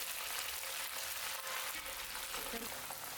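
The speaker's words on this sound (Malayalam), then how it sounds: "നല്ല ചൂടുള്ള എണ്ണയിലേക്കാണ് നമ്മൾ ചിക്കൻ ചേർത്ത് കൊടുക്കുന്നത്." Marinated chicken pieces frying in hot oil at around 170 °C over a medium-high flame, giving a steady, bright, close sizzle throughout.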